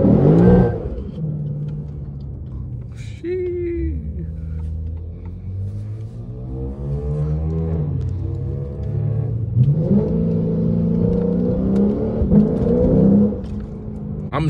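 An all-wheel-drive Infiniti Q60 with over 500 hp, running on low tire pressure, drives and accelerates; the engine rises in pitch several times under a steady road rumble, heard from close by.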